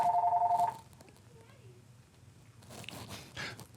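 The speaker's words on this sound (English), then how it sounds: "that's the problem of doing this in the office, is the cell phone or the rings" A cell phone rings in an office with a short electronic tone that cuts off after under a second, followed by quiet room noise and then some muffled rustling and shuffling nearby.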